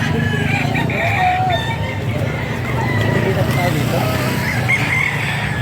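Chickens and roosters cluck and crow at a poultry market in Bocaue, several birds calling at once over a steady murmur of background voices.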